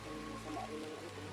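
Rain falls during bad weather outdoors, a faint soft steady patter with a low background hum and no talking.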